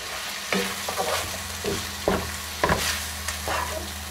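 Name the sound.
stirring tomato paste into frying beef stew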